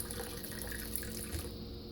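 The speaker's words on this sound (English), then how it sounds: "I'm going to fill the can up with water, which is about 2 cups of water" Tap water runs steadily into a can in a kitchen as it is filled for cooking, a continuous close hiss and gurgle with no talk.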